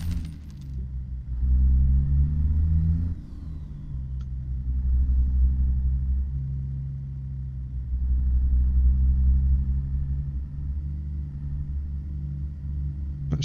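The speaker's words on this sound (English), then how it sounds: "Sound like the old Kenworth firing up." An old Kenworth truck's engine in American Truck Simulator on an Alaskan road, a deep idling rumble rising into two drawn-out revving swells with a brief dip between, close and steady, with no speech.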